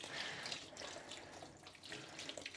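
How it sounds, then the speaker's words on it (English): Hot water poured over ice-dyed viscose socks, a continuous soft splashing, gushing flow that runs the whole time at a low level. "So I'm just going to pour on some hot water."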